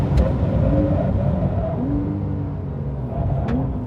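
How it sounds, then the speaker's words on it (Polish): A Toyota Supra with over 500 hp brakes late on a race track. The engine drones loud and near, its tone sliding down and back up as the revs shift, with no talk over it. "Uwaga, będzie późniejsze hamowanie"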